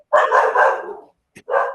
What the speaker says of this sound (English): I thought I heard a dog bark earlier